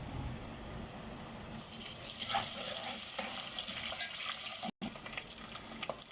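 Ginger and garlic fry with golden onions in a pan for beetroot sabzi, a loud steady sizzle with stirring and scraping building up, cut briefly near the end, no talk.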